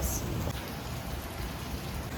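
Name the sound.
rain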